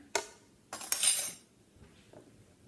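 A utensil stirs cake flour and baking powder together in a mixing bowl, giving two short, close bursts of clinking and scraping before it falls quiet.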